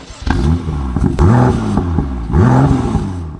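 A BMW M2 LCI sports car engine revs repeatedly up close, rising and falling in pitch with crackling pops between the throttle blips.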